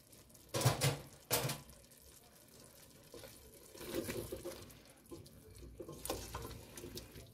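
Cold tap water runs over frozen peas in a kitchen sink to thaw the ice, coming in a few bursts of splashing flow between quieter gaps, close and moderately loud, with no speech.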